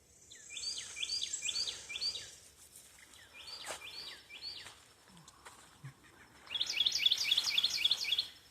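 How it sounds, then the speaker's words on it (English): Birds sing in an autumn garden at the North Carolina Aquarium on Roanoke Island, with repeated bursts of high chirping phrases, a few separate calls, and a louder, faster trilling series near the end, all moderately close and with no talk. "You hear the birds."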